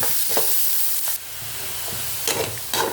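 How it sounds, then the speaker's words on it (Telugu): Onions and peanuts sizzle in a hot pan while being stirred, a steady close frying hiss broken by several scraping stir strokes, with no talking. "ఇలా బ్రౌన్గా వచ్చే వరకు వేయించాలన్నమాట"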